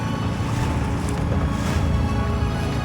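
A Drascombe Lugger dinghy sails through rough overfall waves, giving a loud, constant rush of water and wind buffeting close to the microphone with no clear breaks.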